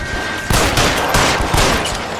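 Loud, close gunfire from the L.A. Noire VR video game, several heavy shots in quick succession with a sustained roar between the blasts.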